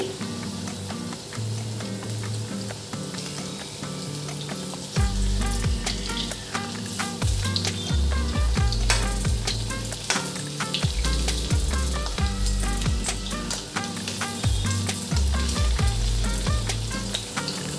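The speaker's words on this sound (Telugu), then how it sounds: "అన్నీ ఇలా వేసుకున్న తర్వాత గోల్డెన్ కలర్లో వేయించుకోవాలండి" Coconut and jaggery boorelu deep-frying in hot oil give a steady, dense sizzle that swells louder partway through, with frequent bubbling pops and occasional stirring or turning sounds close by.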